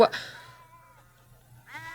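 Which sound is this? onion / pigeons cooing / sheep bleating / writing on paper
sheep bleating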